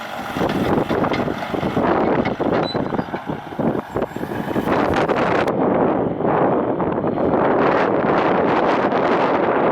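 Strong, steady wind roars and buffets across the microphone during a forest fire windstorm near Hudson's Hope, British Columbia, with dry trees rustling; a continuous loud gusting rush that never lets up.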